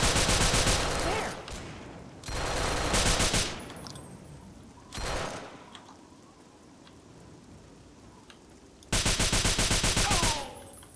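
Fallout 3 gunfire comes in three rapid bursts of dense automatic shots, loud and close, with quieter gaps between them holding faint ambient clatter.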